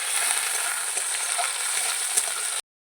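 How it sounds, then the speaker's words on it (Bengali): Onions and tomatoes frying in hot oil in a village kitchen, a steady bright sizzle that holds evenly and then cuts off abruptly. "পেঁয়াজ দিলাম, টমেটো দিলাম, এবারে তেলের মধ্যে ভেজে নিয়ে মশলা দেবো"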